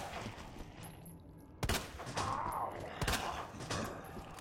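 Shotgun blasts in the video game Resident Evil 2, two loud sharp booming shots about a second and a half apart over ambient game sound.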